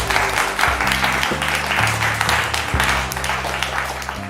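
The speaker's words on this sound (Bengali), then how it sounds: "হাততালি হয়ে যাক" Audience applause at a family singing-quiz contest, a steady patter of clapping under strong background music carrying low tones, moderately loud and continuous throughout.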